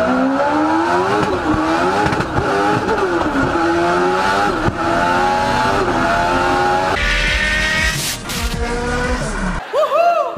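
Turbocharged Mitsubishi Evolution car driving hard, its engine revving up and down through repeated sweeping pitch climbs with gear changes, loud and close, ending in a sharp lift-off and a final rev burst.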